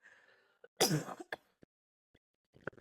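A single harsh throat-clearing cough, loud and close, with a few faint clicks and breaths around it.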